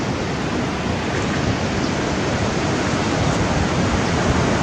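A mountain river in Bhutan rushes steadily past, a dense, even roar of flowing water with no voices.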